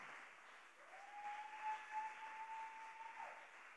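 Applause fills a church, a soft, continuous wash of clapping from a congregation that swells and holds throughout, with a faint sustained tone running through the middle.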